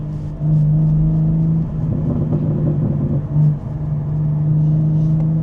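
Synthetic engine sound piped through a BMW G82 M4 while driving, a steady low drone with a sustained tonal hum that swells and dips slightly, close and fairly loud.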